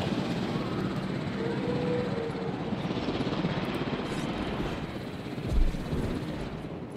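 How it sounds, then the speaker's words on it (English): A fleet of helicopters arrives in the video game Jurassic World Evolution, a steady whirring rotor drone with a muffled thump near the end. "fleet of helicopters just come in and pick up them all"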